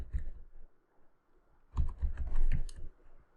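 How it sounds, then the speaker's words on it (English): A computer keyboard types localhost, with a few scattered close keystrokes first and then a quick burst of clicks, clear and alone in a quiet room. "I'm going to type localhost."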